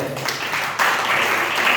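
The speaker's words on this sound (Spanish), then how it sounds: "Denle un aplauso al Señor." A church congregation applauds, brisk clapping from many hands that swells slightly partway through this short burst.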